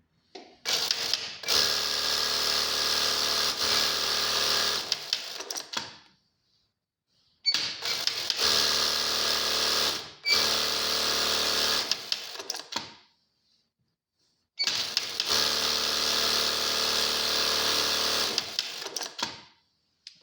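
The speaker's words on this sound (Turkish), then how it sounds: "otomatik çift iğne iptalli makinamızı deniyoruz şimdi" An automatic double-needle sewing machine with thread trimming and a motor in the head runs in three bursts of fast, even stitching, each a few seconds long, separated by quiet gaps and punctuated by mechanical clicks.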